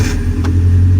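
A Nissan D21 mini truck engine turns over and catches, settling into a loud, steady low idle rumble close by.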